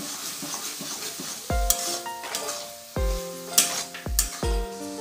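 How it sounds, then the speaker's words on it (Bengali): Grated carrot halwa with melted sugar is stirred in a pan as milk is added a little at a time. A soft sizzle runs underneath, broken by several ringing metal knocks from a spoon against the pan. "এর মধ্যে আমি এবার অল্প অল্প করে দুধ দিয়ে নাড়তে থাকবো।"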